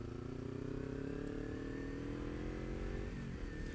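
Kawasaki Ninja motorcycle engine revving close by, its pitch climbing steadily and smoothly under acceleration and then dipping near the end, fairly quiet overall.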